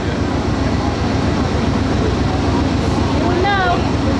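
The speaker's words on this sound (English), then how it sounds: "I think it's Northeast Regional 156." A loud, steady roar of an Amtrak Northeast Regional passenger train passing close by at Manassas, Virginia, broadband and continuous, with a voice briefly rising over it near the end.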